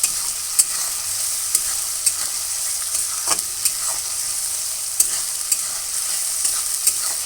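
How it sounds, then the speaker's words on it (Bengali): Spice paste for prawn malai curry cooks in a pan over low heat with a steady soft hiss and sizzle, broken by occasional light clicks from stirring, close and alone. "গ্যাসটা লো করে নিয়ে মশলাটা কষিয়ে নেব।"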